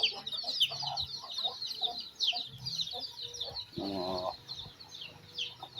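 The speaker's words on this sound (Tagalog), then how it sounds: "Manok." Chickens cluck and chirp in a continuous busy chorus, with one louder squawk partway through and high peeping throughout.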